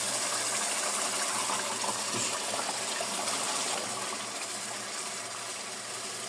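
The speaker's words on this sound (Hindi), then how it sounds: "अब मैं इसमें डाल देता हूँ कलेजी।" Pieces of chicken liver drop into a pan of thick, oil-glossed onion gravy; a steady loud sizzle and hiss fills the scene, with a soft splatter as they land.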